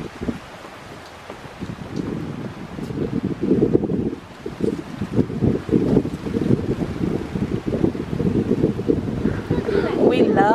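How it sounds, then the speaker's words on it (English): Strong gusty wind buffets the microphone in low rumbling surges on a walk by the water, growing louder over time, with faint water and a brief voice near the end. "It's so nice and windy out."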